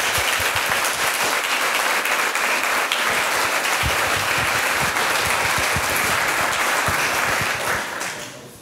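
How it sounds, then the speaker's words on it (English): An audience applauds a group's presentation at a school event, with a loud, dense burst of clapping from many hands that holds steady and then fades out at the end. "I think we should give the group a round of applause at the start"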